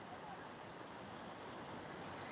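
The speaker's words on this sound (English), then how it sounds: "Look, a little bit choppy in the water today. I'm just having a look over the beach. A few waves." Choppy sea waves at Cala Millor beach in Mallorca make a constant broadband wash of surf, steady and moderately distant, mixed with some wind.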